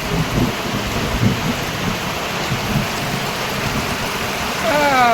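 Steady rain pours down during a thunderstorm over farmland, a dense continuous hiss with low rumbles of thunder rolling beneath it, close and loud throughout.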